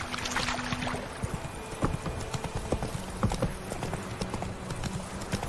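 Hooves of Roach, Geralt's horse in the video game The Witcher 3, clop in a steady walking rhythm, close and clear over a low outdoor ambience.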